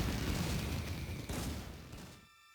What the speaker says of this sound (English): With some fireworks.